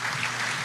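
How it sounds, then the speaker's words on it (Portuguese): Brief burst of audience applause inside the Teatro Cásper Líbero during a faculty anniversary tribute, a dense, even wash of many hands clapping. "uma salva de palmas aqui no Teatro Casper Libero"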